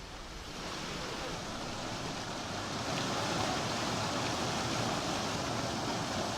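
Water from the breached Tungabhadra Left Bank canal gushes steadily into farmland near Basapura, a continuous broadband rush that swells slightly and holds even, with no voices.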